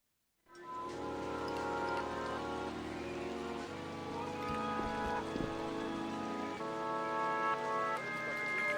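Steady rain in Yakuza 4, a constant patter blended with sustained tonal music underneath, with no talking.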